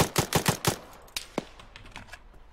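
Gunfire in the military shooter ARMA 3: a quick burst of four or five sharp, close shots, then a few scattered single shots and fainter distant cracks fading into quiet.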